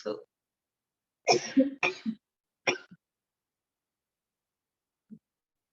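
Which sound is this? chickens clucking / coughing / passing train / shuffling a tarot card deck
coughing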